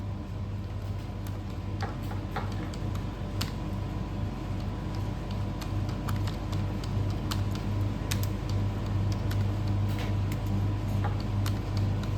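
Someone types on a computer keyboard while working in WordPad, a steady run of light, close key clicks in an irregular rhythm over a low constant hum, with no talking.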